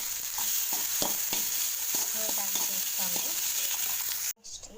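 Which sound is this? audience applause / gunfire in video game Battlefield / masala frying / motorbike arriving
masala frying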